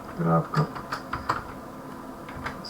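Router IP address being typed on a computer keyboard while setting up a TP-Link TL-WR940N router, a short run of close, quick key clicks mixed with a voice talking.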